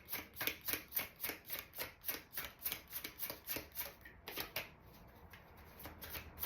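A newly bought deck of tarot cards being shuffled by hand, close and crisp, with a fast regular riffle of a dozen or more quick bursts that then loosens into softer, irregular card slides.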